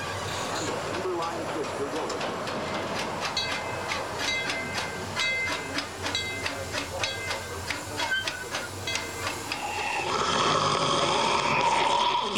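A train ride at Knott's Berry Farm amusement park rumbles along steadily with a hissing, rhythmic clatter, overlaid by music and a narrating voice, growing louder and brighter near the end.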